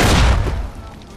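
A grenade explosion in the video game Fallout New Vegas, one loud booming blast right at the start that rumbles and fades away over about a second.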